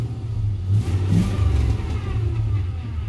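An older car's engine revving with its power steering working: a loud, low, continuous rumble that swells and eases slightly, close by, with no speech.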